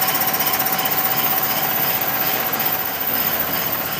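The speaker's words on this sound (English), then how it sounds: "this is actually the wheel turning. It's in second gear and it does move forward" Wheel of a homemade HHR vehicle turning in second gear, giving a loud, steady mechanical rattle and whine that holds close and constant throughout with a fast hammering pulse.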